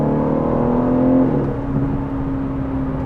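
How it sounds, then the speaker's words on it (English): An Aston Martin DB11 V8 engine in Sport Plus mode revs and falls into overrun, a steady close drone that rises and then drops off with a slight burble. "There is a bit of overrun,"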